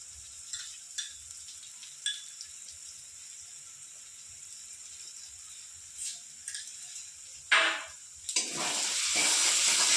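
Spices fry in a pan for a spicy egg and potato curry. Scattered clicks and stirring taps sit over a quiet background, followed by a sudden loud burst of steady sizzling near the end, with no talk.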